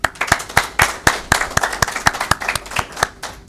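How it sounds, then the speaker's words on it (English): A graduating class claps for themselves at a 2023 Class 10 graduation, sharp distinct hand claps in an uneven rhythm, fairly close and loud, with scattered claps from a modest group. "give yourself a round of applause"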